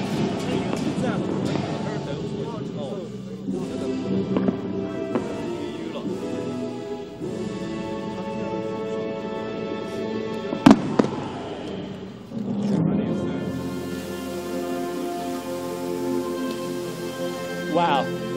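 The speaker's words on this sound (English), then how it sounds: "performing their last molten iron firework display for tonight" A molten iron fireworks display on stage at a traditional folk performance in an ancient town, with sustained crackling and rushing bursts, a sharp loud crack midway, and crowd noise and voices underneath.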